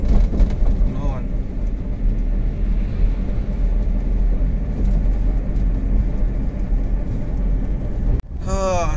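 A car drives along an empty road in Italy, its engine and road rumble droning steadily from inside the cabin, with a voice talking over it.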